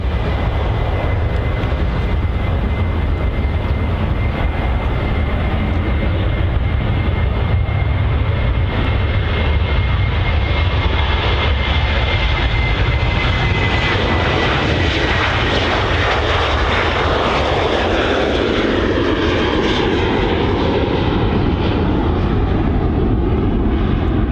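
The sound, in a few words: TUI airliner at Manchester Airport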